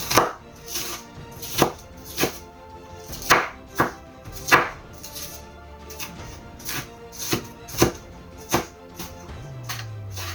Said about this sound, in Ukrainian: крошу кубиками.